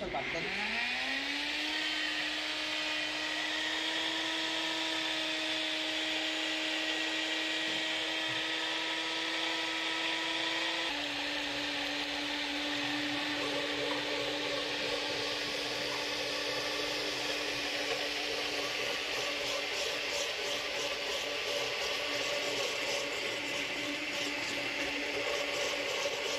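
A kitchen blender liquefying ingredients for green chicken pozole, a loud continuous motor whir that rises as it spins up, shifts pitch midway and runs steadily, with a voice speaking over it.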